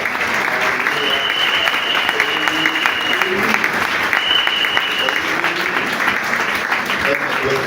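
A church congregation applauds loudly and continuously during a Mother's Day service, dense clapping filling the room with a voice calling out over it.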